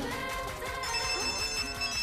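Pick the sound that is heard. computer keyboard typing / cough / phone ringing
phone ringing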